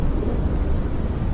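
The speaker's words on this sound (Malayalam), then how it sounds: "ഇടിയും വെട്ടുന്നുണ്ട്." Thunder and heavy rain rumble around a haunted house in the horror video game Pacify, a brief, loud, steady low roar with no speech.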